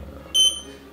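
A lithium battery charger, an iCharger 106B, gives a short, loud electronic beep as it finishes charging, with a quiet background hum before and after.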